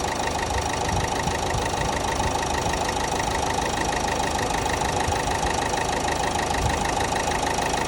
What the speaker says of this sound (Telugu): ఇంజన్ నాయిస్ చాలా వరకు కామ్ అయిపోయింది